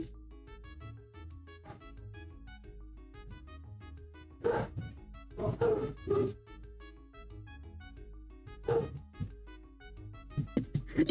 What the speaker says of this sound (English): both my dogs are barking.